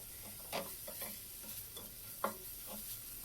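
Boiled chopped chicken frying in a pan with a splash of stock, a soft steady sizzle broken by several scraping stirs of a spoon, fairly quiet, with no voices.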